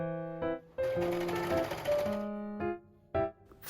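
Sewing machine stitching a gathered skirt seam, a buzzing run of rapid needle strokes for over a second, followed by short bursts and stops as the fabric is guided.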